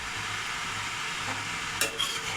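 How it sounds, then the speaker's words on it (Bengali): Curry broth for capsicum paneer dopiaza bubbling and simmering in a pot, a soft continuous hiss with a couple of faint clinks near the end. "ঝোল ফুটে গেছে"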